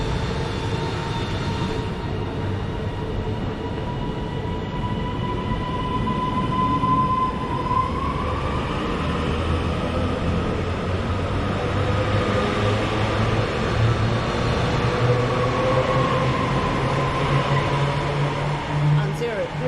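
Class 331 electric train at Bolton station, a sustained rumble and whine of the unit moving through the platform with rising and falling motor tones, moderately loud, with occasional voices in the background.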